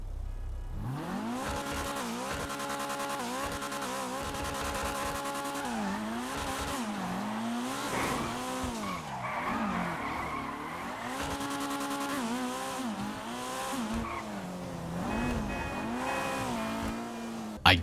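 A Vapid Flash GT race car in GTA Online roars through repeated revs and gear shifts, engine pitch sweeping up and down with tire squeal and skidding, loud and continuous with no talking.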